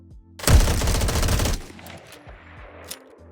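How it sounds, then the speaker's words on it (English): Rapid automatic fire from the Karus rifle shot from the hip in Fallout 4, a loud continuous burst emptying the full magazine over about a second, then fading echoes and a single faint clatter. "Starting off with hip fire, we have a full mag dump."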